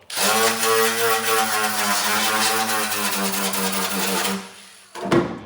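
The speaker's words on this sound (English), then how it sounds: "these little guys here, this little polisher thing, because my air compressor can't keep up." A small electric polisher grinds corrosion off a pitted GM Gen V L8T 6.6L engine, giving a steady, strongly pitched motor whine. It cuts off after about five seconds and is followed by a brief scuffing noise.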